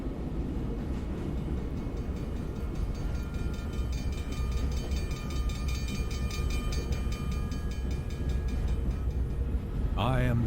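A train rolls along steadily in the GRUNND point-and-click adventure game, giving a constant rumbling clatter with faint metallic tones on top, and a sharp sound enters at the end.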